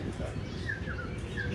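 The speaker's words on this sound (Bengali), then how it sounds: "এত সুন্দর পাখিগুলো ডাকছে" Small birds chirp faintly a few times over a soft, steady background hiss, beside the Subarnarekha river.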